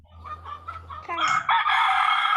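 A rooster crows loudly and close by, one long drawn-out call that rises and holds, with a few softer clucks just before it.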